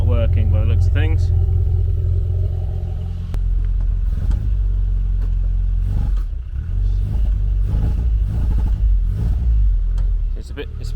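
A classic Mini Cooper engine with a failing alternator and a possible air leak idles roughly, then revs unevenly with a spluttering, rumbling note, loud and close, while a person talks over it.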